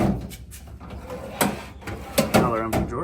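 A metal tool box drawer slides open and shut a few times with scraping rattles and sharp clunks, close by, while someone talks throughout.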